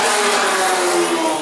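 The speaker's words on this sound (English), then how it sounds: "crazy exhaust sound of overclocked Mercedes engines" Pagani sports car with an overclocked Mercedes engine, its exhaust roaring loud and close in one continuous, slightly wavering engine note, no talk.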